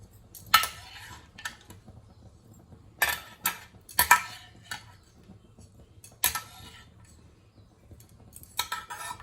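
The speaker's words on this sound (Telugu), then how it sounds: "ఒక స్ట్రైనర్లోకి తీసుకుందాం" Cooked potatoes tipped into a metal strainer in a home kitchen: several sharp clinks and clatters of utensil and pot against metal, spaced a second or two apart over a quiet background.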